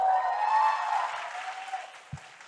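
A crowd at an awards presentation applauds and cheers, a dense wash of clapping that is loud at first and then gradually fades, ending with a single low thump.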